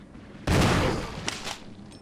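Shotgun blasts at zombies in Resident Evil HD: a loud, booming gunshot hits suddenly and rings out, with a couple of weaker echoing reports after it.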